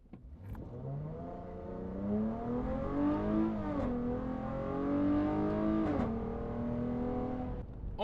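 A 2023 Dodge Challenger GT fitted with a K&N intake and Borla exhaust revs hard, its deep engine note rising and falling in sustained pulls that fill the space close to the microphone.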